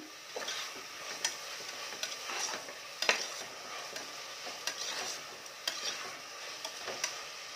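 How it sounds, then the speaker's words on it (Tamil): Onions for ghee rice sauté in a pan with a soft, steady sizzle, broken by sharp ticks and scrapes of a spoon stirring, close and fairly quiet, with no voices. "இது கொஞ்சம் வதங்கட்டும் அது வரை வெயிட் பண்ணலாம்"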